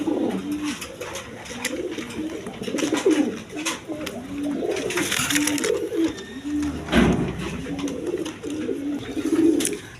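A pair of Bombay pigeons at a pigeon seller's, cooing in repeated rolling calls that fill the air, close and steady, with other pigeons murmuring around them.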